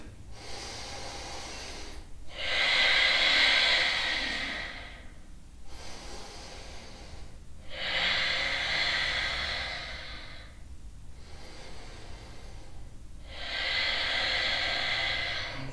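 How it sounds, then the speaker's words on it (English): Deep Ujjayi breathing through the nose during a power yoga session, three slow, hissing breath cycles, each a long steady rush of air followed by a pause, close and clear. "Two more deep Ujjayi breaths if you're familiar with Ujjayi. Otherwise, just breathe deeply through the nose into the abdomen."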